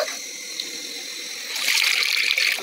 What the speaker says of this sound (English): I'm adding another water inside the 20 bowls.